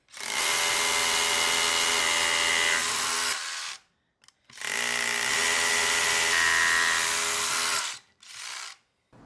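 A DeWalt DCH172B 20V cordless rotary hammer on a 2 Ah battery drills with a 5/8 inch Trooper bit in two long, loud, close bursts of a few seconds each, separated by a pause, with a short final burst.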